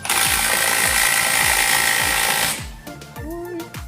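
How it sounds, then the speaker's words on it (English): A pneumatic rattle gun (impact wrench) hammers loudly and steadily for a couple of seconds in a workshop during an engine build, then stops, leaving clanks and shop noise. "At least put the rattle gun on number 3"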